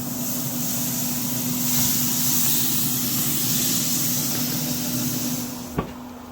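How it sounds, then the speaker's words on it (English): A spray bottle misting apple cider vinegar onto pork in a smoker, a steady soft hiss of spraying over a constant low hum, ending with a brief sharp click. "go ahead and start spraying this with some apple cider vinegar"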